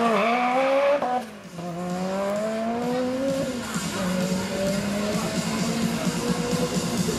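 A 650-horsepower Lada Niva drag car launches down a 402-metre strip, its engine note rising through gears in a loud, continuous roar with shifts, heard up close at the start line.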